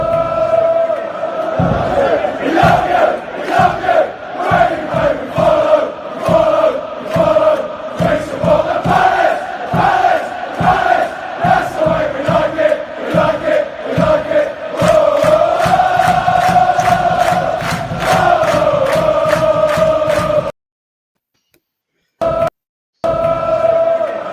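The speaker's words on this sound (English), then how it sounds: "So I videoed the crowd at Palace and I want to show why I'm in love with Palace" Crystal Palace football supporters chanting in a stadium, a loud rhythmic mass chant with steady repeated beats and clapping for about twenty seconds, then cutting out abruptly.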